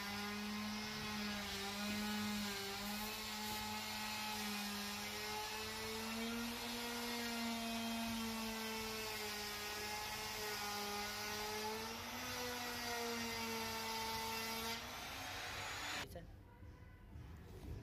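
A power tool cuts 1-inch louver grooves into an MDF panel, giving a loud, steady high-pitched motor whine that dips and rises slightly in pitch as it feeds through the board, then cuts off abruptly near the end.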